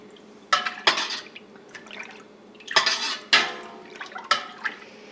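Milk with yogurt culture being stirred in a pot with a utensil, producing bursts of liquid swishing and sharp clinks against the pot in irregular strokes, close up and moderately loud.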